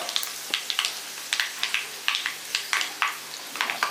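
Dried red chillies frying in oil for beetroot pickle while being stirred: a rhythmic series of sharp, close scraping and crackling bursts about every quarter second over a light sizzle, with no speech.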